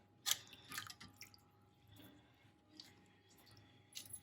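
Arbi (taro) leaves dunked and swished in water to rinse off soil, giving a few soft splashes and drips with quiet wet squishes between them, close but faint.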